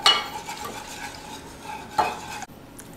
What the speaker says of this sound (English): We're gonna whisk that all up.